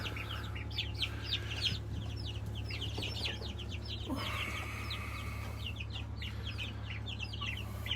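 Turkeys and chickens in a chicken tractor, with steady soft clucking and chirping peeps from several birds close by over a constant low hum, no talking.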